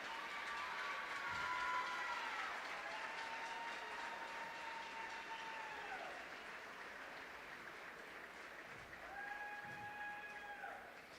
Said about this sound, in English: Please join us in a big round of applause